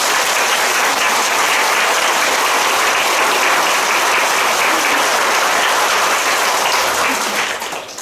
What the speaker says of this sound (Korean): 모든 분들께 진심으로 감사드리며 감사의 박수